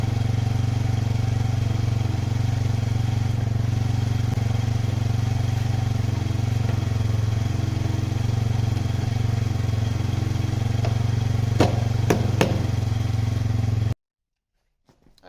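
Near-mint ATV quad engine idling a little high after being fired up, a steady low rumbling drone heard up close for about fourteen seconds with a few clicks near the end before cutting off.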